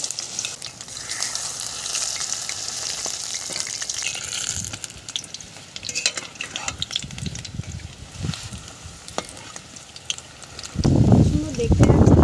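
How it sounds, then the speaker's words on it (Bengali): Pumpkin flower fritters fry in hot oil with a continuous bubbling sizzle, broken by occasional scraping and stirring, and a louder burst of crackling near the end. "এবারে আমি কুমড়ো ফুলের বড়াটা করে নেব।"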